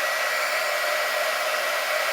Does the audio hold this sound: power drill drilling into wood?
no